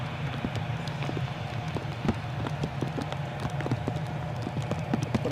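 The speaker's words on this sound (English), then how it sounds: "the rain's getting a bit lively now." Steady rain patters outdoors at Newcastle Airport, a dense, even wash of drops and taps that grows lively, with a constant low rumble beneath and no voices.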